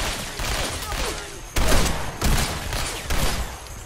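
Repeated bursts of gunfire in Fallout 4, sharp close shots that come in clusters with brief gaps between volleys, and no speech over them.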